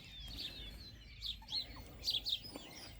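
Birds on a farm, likely chickens let out of a trailer in the morning, give several short chirps and calls over a low outdoor rumble, fairly faint and scattered across a few seconds.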